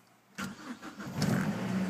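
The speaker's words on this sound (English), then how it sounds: "starting engine, and a whining noise." A Mazdaspeed car engine with a failing high-pressure fuel rail relief valve cranks and catches after a short quiet moment, then settles into a steady rough idle with a faint high whine.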